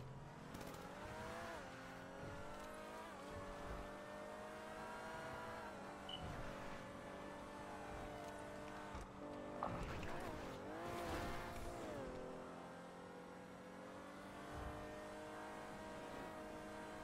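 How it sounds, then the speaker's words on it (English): A car in the video game Grand Theft Auto 5 drives with a sustained engine whine whose pitch rises and falls as it revs and shifts, with tire noise and occasional scuffs layered in and no clear talking. "this car is so slow"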